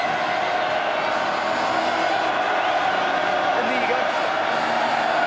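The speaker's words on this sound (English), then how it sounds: "They're making the noise of a crowd twice that size." Large rugby stadium crowd of roughly 10,500 at a 2009 Ranfurly Shield match between Canterbury and Southland, a dense continuous roar of cheering that stays loud and steady throughout.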